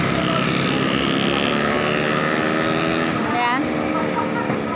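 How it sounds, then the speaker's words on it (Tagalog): Fast motorcycles roaring past on a street, a loud continuous engine drone with a rising whine as one passes close, and a voice talking over the traffic. "Nakakatakot yung mga motor kung minsan dito guys, ang bibilis nila."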